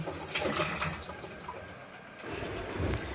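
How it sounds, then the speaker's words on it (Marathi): Water runs softly from a tap onto washed dal in a kitchen for a few seconds, a quiet, steady splashing trickle with no voices. "थोडं पाणी झरायला ठेवते"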